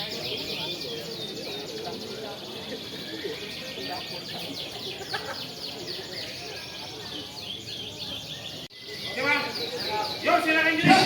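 Songbirds at a bird singing contest chirp and trill in a dense, constant chorus, with many overlapping calls. A murmur of people at the event runs underneath, and the sound grows louder and busier near the end.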